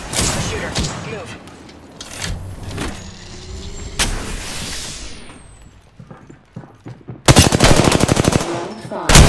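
Rapid gunfire in an Apex Legends match: dense, loud bursts of automatic shots and single cracks, heaviest in a sustained volley near the end, with game effects between.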